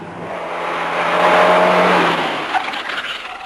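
Peugeot 205 GTI racing up a hill climb course, engine and tires rising to a loud rushing peak as the car sweeps past, then fading into a rougher, lower rumble.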